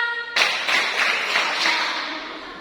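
Classroom of pupils clapping a counted rhythmic pattern, a burst of several hands striking together in a few grouped beats, lively and close, with a voice briefly heard before the claps begin.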